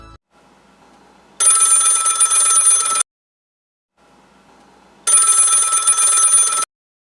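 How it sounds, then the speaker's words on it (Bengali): A telephone rings indoors in a drawing room, two long bright bursts of ringing separated by a pause, loud and alone with only a faint hum between rings. "তখনই ড্রয়িং রুমে ফোনটা বেজে উঠল।"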